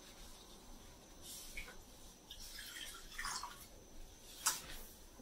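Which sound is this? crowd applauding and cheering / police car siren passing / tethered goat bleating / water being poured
water being poured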